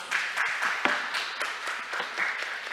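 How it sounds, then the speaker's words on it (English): A conference audience at Korea Maritime Week applauds the panel speakers, a steady wash of many hands clapping with a few sharper claps standing out. "Let's give them another big round of applause."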